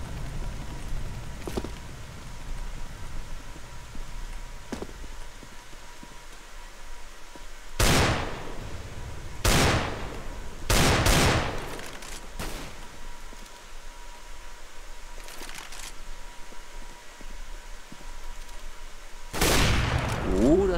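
Sniper rifle shots ring out in a CS:GO match on site B, several loud separate cracks spaced seconds apart over a low hum of game ambience, with someone talking faintly between shots.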